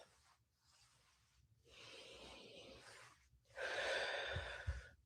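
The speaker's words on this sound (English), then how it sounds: "Deep breath." A person takes a slow deep breath in and then breathes out during a calming nervous-system exercise, heard close and quiet with no talking and the exhale louder than the inhale.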